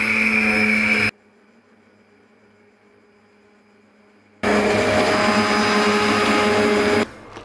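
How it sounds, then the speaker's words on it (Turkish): A kitchen blender purees cooked red lentils with a loud, steady whirring roar, running for about a second, stopping for a few seconds of near silence, then running again for over two seconds. "Şimdi bir kere blenderdan çekeyim."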